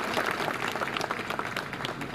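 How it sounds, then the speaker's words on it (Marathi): Applause from a crowd at a Marathi political rally for a municipal council president candidate, steady dense clapping filling the whole moment at moderate volume. "एकदा जोरदार टाळ्या वाजवा"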